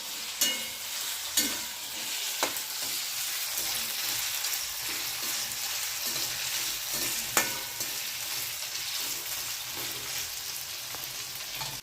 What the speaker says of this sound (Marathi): त्याच्यात आपण टाकणार आहोत बटाट्याचे छोटे छोटे काप ह्याच्यामध्ये टाकणार आहोत आपण